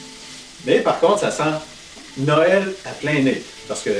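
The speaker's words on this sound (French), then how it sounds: "Et on va y mettre nos crevettes. Ça grésille déjà." A soft, steady sizzle of shrimp frying in hot oil runs underneath a person talking close by.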